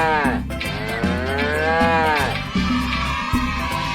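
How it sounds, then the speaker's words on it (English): A cow lowing repeatedly in a long drawn-out moo that rises and falls, loud and close, over a steady rhythmic backing beat. "Now we all know which animal goes moo, moo, right?"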